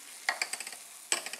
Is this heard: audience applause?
no